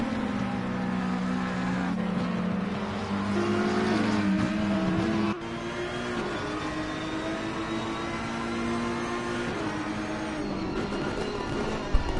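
Race cars roar around the Nürburgring circuit, several engines droning and shifting pitch together as they run side by side, a loud continuous mechanical blare with no voices over it.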